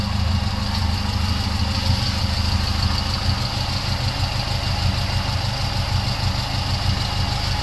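Overhauled 33-year-old Toyota AE92 engine idling after a top overhaul, a steady, even low rumble that holds unchanged throughout, loud and close with no voices.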